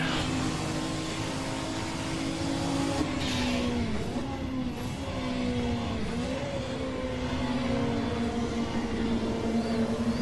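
A turbocharged Ford race car engine held under heavy boost, droning loud and steady with pitch dipping and recovering twice as the driver works the throttle through corners, no voices over it.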